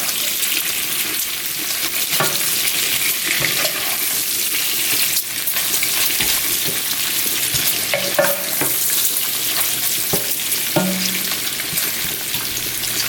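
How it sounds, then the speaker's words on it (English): Bacon sizzles and crackles steadily in a pan on a stovetop over medium-high heat, a dense frying hiss running throughout with occasional louder pops and scraping clicks as strips are turned. "I already got my bacon on the stove, so I'm gonna go ahead and flip that over. I got it cooking on medium high."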